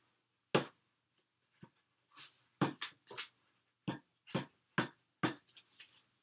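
A pencil tracing around paper in a craft project, a series of short scratchy strokes in irregular bursts separated by quiet pauses, close and soft with no talking.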